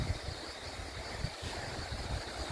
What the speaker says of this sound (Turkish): Rüzgarın sesi var. Cırcır böcekleri. Suyun sesi.